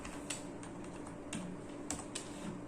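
Keys tapped on a computer keyboard while entering a value into a Python queue program, a few scattered soft clicks over a quiet room hum, with no talking.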